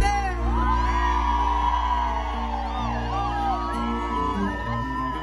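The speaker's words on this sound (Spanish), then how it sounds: "que se escuche el grito fuerte" A concert crowd at a live regional Mexican show in Santa María, California, lets out loud, sustained whoops and yells together, a dense roar of voices close by.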